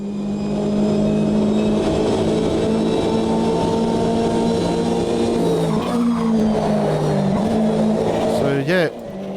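GTE race car in a sim racing game: the engine drones steadily at high revs along the track, shifting pitch through gear changes, with a brief squeal near the end and someone talking over it.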